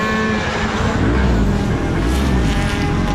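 Single-seater race cars run on a circuit, a loud continuous engine roar with a rising and falling drone close by, and no talking.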